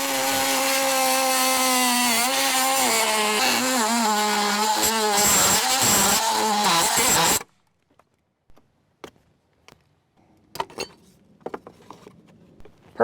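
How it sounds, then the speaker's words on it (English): An oscillating multi-tool cuts into an exterior door threshold with a loud, steady buzzing whine for about seven seconds, then stops, leaving quiet clicks and taps of handling. "I'm going to use my favorite tool in the world, the oscillating tool, and very carefully cut this."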